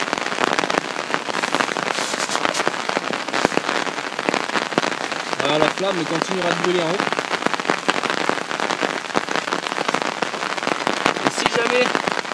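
Rain pattering steadily on the ground around a Kelly Kettle camp stove burning outdoors, a dense hiss of drops throughout with someone talking over it.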